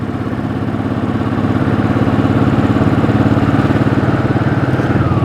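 A Royal Enfield Bullet motorcycle engine ticks over at idle, steady and close, its rapid even thumping pulse running without a break and no talk.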